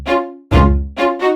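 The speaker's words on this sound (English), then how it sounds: "in this section, it all dries up, and the strings sound a little something like this" A dry synth string section without reverb plays in a song production: three sustained, bright chords with sharp starts and clean stops, loud and close, with short silent gaps between them.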